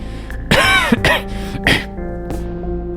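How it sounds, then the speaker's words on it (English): A few harsh, throaty coughs in quick bursts, close by, with raspy clearing between them and no talking. "How long have you had that cough?"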